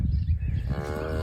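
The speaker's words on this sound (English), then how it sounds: "She's mooing nicely at that little baby calf." A mother cow in a cosy video game moos once, low and drawn out, rising into a tonal call in the second half, close and moderately loud with no talking.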